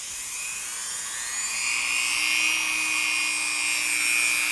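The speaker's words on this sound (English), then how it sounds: "tapping with my Dremel the back of every tooth" A Dremel rotary tool grinds the backs of bandsaw sawmill blade teeth, producing a continuous high-pitched whine that stays loud and steady throughout, with a faint tonal hum rising partway in.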